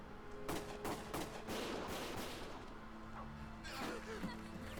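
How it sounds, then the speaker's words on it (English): Bursts of gunfire crack in quick succession in the video game Valkyria Chronicles, sharp shots scattered across a noisy background, fairly faint and somewhat distant. "Gunfire!"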